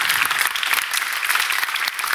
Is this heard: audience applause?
yes